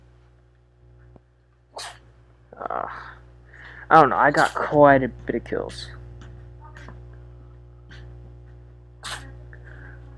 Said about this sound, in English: my cat was sneezing